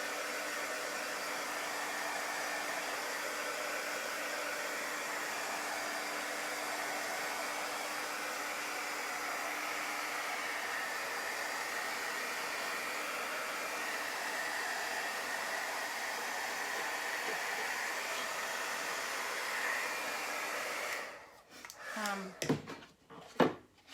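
A hair dryer blows steadily on chalk paste on a craft project, a constant close rushing hiss that cuts off near the end, followed by a few light clatters.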